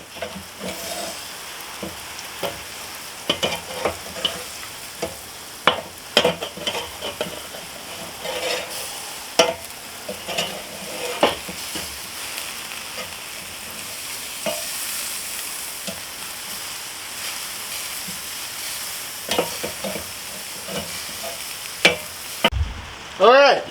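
Flipped burger patties sizzle and fry steadily in a pan for Cajun-style twisted burgers, a continuous close crackling hiss broken by scraping spatula clicks and light pan knocks, with no talking.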